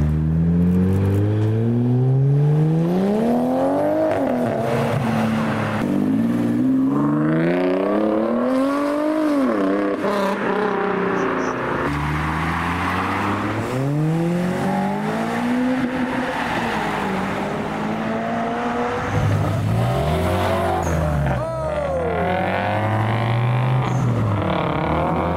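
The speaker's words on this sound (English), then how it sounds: "it's come to that point of the evening for cars to roll out" JDM cars, among them a purple Mark V Supra, roll out of an evening car meet one after another, engines revving up and down in loud sweeping pulls, close by and continuous.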